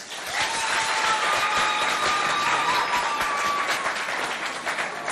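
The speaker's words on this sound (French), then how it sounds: "On les applaudit bien fort." A school audience at a high school competition applauds administration representatives with loud, sustained, dense clapping that stays even throughout, a faint tone briefly running through it.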